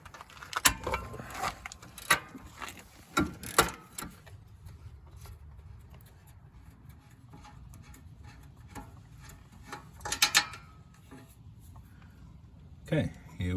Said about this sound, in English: So I've got my ratcheting breaker bar.